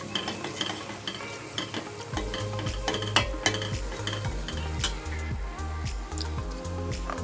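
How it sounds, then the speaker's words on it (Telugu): Crab pieces frying in a pan for crab curry, with sizzling and repeated scraping stirs in a steady rhythm, close and moderately loud, no talking. "మన క్రాబ్ ముక్కలు కూడా అందులో వేసేద్దాము."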